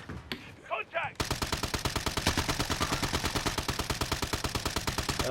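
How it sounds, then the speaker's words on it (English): Rapid automatic gunfire in the video game Call of Duty Warzone runs in a steady, loud, close burst, preceded by a brief moment of talk and scattered game sounds. "He sniped me, man."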